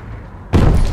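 A sudden loud boom erupts after a quiet stretch in a video game firefight, a deep, rumbling blast that sustains to the end.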